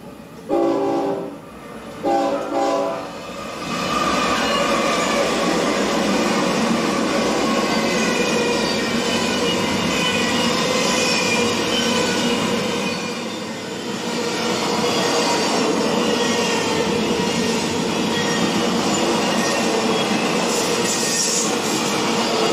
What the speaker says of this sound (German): mit ihren bis zu 100 Waggons langen Zügen führt direkt am Ort vorbei und das hört sich dann alle paar Minuten